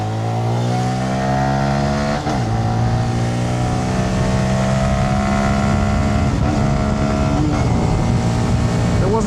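A Honda Grom MSX125 motorcycle rides on the German Autobahn, its engine a loud, steady, close drone. The pitch climbs smoothly through the gears, with brief shift dips near the start and again later. Wind noise runs under the engine throughout, and no one speaks.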